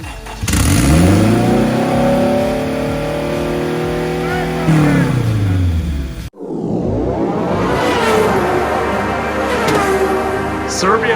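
A K20 turbo engine in an all-wheel-drive Honda CRX project car runs during a spark check, giving two loud stretches of rising and falling engine tone separated by a brief cut.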